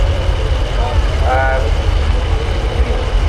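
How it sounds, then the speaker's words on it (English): Turbocharged tractor with a 380 engine at a steam rally tractor pull, a steady low engine drone running throughout, fairly loud and near, with a brief tonal rise midway and a busy outdoor crowd around it. "You've got a tractor with a 380 cargo and a turbo."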